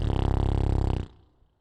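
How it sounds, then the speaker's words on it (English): Lips blown into a microphone in a close, loud, buzzy raspberry that flutters steadily for about a second and then cuts off abruptly, with no speech. "It's me just blowing raspberries."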